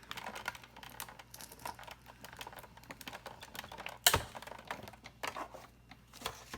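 A Sizzix die-cutting machine is cranked to feed a French bow die through its cutting pads, giving a close run of quick, dry clicks and rattles with one sharp, louder clack partway through. No one speaks.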